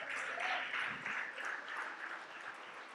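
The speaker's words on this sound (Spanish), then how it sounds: "Dame un aplauso al Señor." A church congregation at a service applauds together, a fairly faint, distant wash of many hands clapping that continues steadily through the moment with no voices on top.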